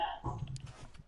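A dog gives a brief close bark or yelp, a short voiced burst followed by softer scuffing noise, all within about a second.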